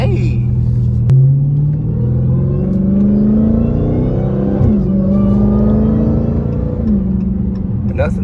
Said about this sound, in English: Nothing sounds better than the Hellcat whine, though.